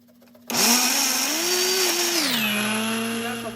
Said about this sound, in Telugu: కొబ్బరి ఎల్లుల్లి మిక్సీలో వేసుకొని కొబ్బరి కోరి చేసుకుందాం.